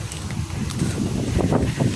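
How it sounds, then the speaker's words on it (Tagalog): Steady wind by a river rumbles and buffets across the whole stretch, a low, noisy roar with faint rustling over it. "hangin, sarap ng hangin"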